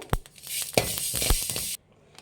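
Fenugreek seeds dry-roasting in a pan while preparing sambar powder, with a steady close sizzle and scraping stirs that end abruptly near the finish.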